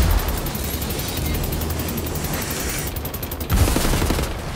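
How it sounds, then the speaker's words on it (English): A big gun firing in the video game Wolfenstein: The New Order: a steady, dense stream of rapid heavy automatic fire with a louder burst near the end, set against constant combat noise. "start shooting this guy with a big gun"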